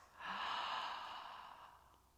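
A soft ujjayi yoga inhale like a slow, drawn-out gasp, a breathy throat hiss heard up close on its own. It rises quickly, holds steady, then eases away over roughly two seconds.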